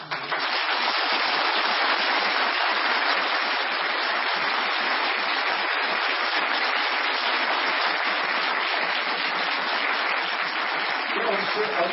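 An audience at a Has Parti political rally applauds in a steady, dense wash of clapping that lasts throughout, with a voice speaking faintly beneath it.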